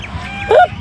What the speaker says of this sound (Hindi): हमारी बत्खें देखो, अब देखना इनको मैं छेड़ूंगी ना, मुझ पर चीखती हैं